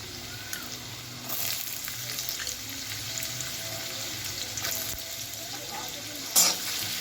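Small diced potatoes fry in oil left over from frying peanuts, producing a soft, continuous sizzle close by. Occasional stirring clinks and a brief sharper scrape break in near the end.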